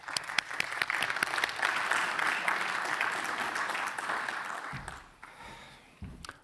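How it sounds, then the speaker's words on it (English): A burst of audience applause at a conference, dense and steady clapping from a crowd that fades out toward the end, followed by a couple of isolated claps. "An applause for Ahmed"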